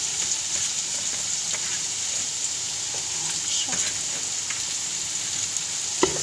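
Onion fries for meatballs in a hot pan, giving a continuous, even sizzle up close with occasional small pops and stirring scrapes.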